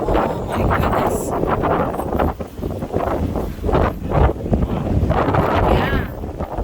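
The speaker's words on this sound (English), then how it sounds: "My God's so windy, guys." Strong gusting wind during a New Mexico wind storm roars and buffets the microphone steadily throughout, with voices talking intermittently over the rushing noise.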